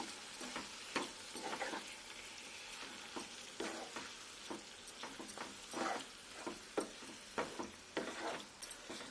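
Chicken stir-fried in a pan with fenugreek leaves, giving a quiet hiss and sizzle broken by repeated spatula scrapes and stirring strokes in an uneven rhythm, close up and without voices.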